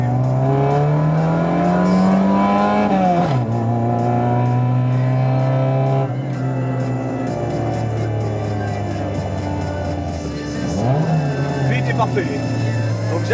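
A car engine revs up and drops back twice while the driver double-declutches into fifth gear, the engine note rising and falling smoothly under steady driving hum, with someone talking over it.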